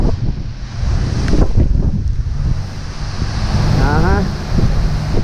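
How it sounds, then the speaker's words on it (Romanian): Strong wind gusts steadily across the microphone at a truck unloading site in New Zealand, a loud roaring rumble throughout with surf-like surges, while a voice briefly chirps over it partway through. "Ia uitați ce bate vântul acolo."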